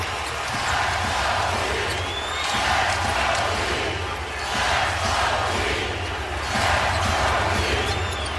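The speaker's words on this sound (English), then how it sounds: "Crowd gets on its feet in a 2-point game with under 2 to play." A packed arena crowd at the 2011 NBA Finals Game 2 between the Mavericks and Heat roars and rises in a steady, swelling wall of noise, loud and continuous with faint squeaks and bounces beneath.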